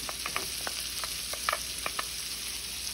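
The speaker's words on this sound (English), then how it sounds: "I'm just gonna start going in with my peppers. Followed by my onions." Bell peppers and onions go into melted butter in a pan on medium-low heat for Cajun shrimp and sausage pasta, giving a quiet, steady frying hiss dotted with small crackling pops.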